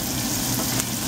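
Onions fry and brown in a pan while making bacon jam, giving a steady, close sizzle that runs unbroken from start to finish with no talking.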